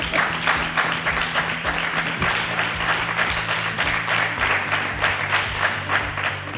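A crowd at a Falles festival celebration applauds loudly and steadily, with a sustained tone sounding underneath the dense clapping.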